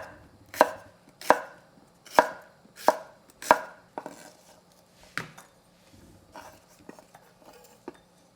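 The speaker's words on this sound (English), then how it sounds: "I just wash this nice, big garlic, and then slice this, maybe 1 or 2 times" A big garlic clove sliced on a cutting board with a knife: five crisp, close chops in a steady rhythm, followed by a few softer, scattered knife taps.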